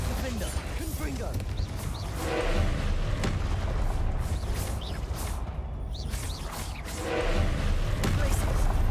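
Spell impacts and explosions in Hogwarts Legacy, a steady barrage of booming thuds, crashes and whooshes across the whole stretch, loud and dense, with a voice speaking over the action.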